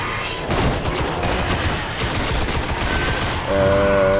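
Weapon fire in the video game Destiny crackles in rapid bursts of shots over a dense, loud background of game noise, with a tonal cue near the end and no talk.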